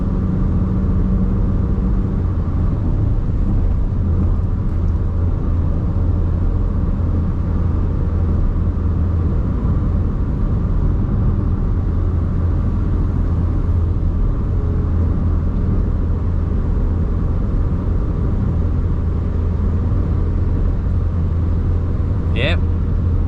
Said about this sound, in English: Welcome to country driving here in Australia.